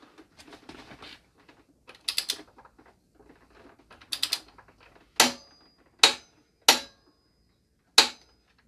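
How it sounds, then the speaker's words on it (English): A ratchet tightens the axle nut on a Yamaha YZF R125 motorcycle: two short bursts of rapid clicking come first, then four separate sharp, loud ratchet clicks at uneven intervals, close by and with no talking. "all that remains is to tighten up the axle nut"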